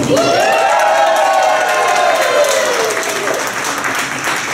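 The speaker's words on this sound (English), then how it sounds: "You'll get a big thunderous round of applause." An audience at a magic show breaks into loud, dense applause mixed with cheering, and a voice rises and falls above the clapping as it continues steadily before easing slightly.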